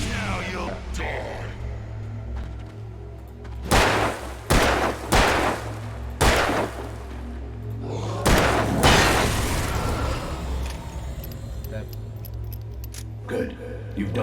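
Loud gunshots ring out in the Alan Wake video game, a handful of sharp, separate blasts in the middle of the passage over a low droning background, with a voice speaking before and around them.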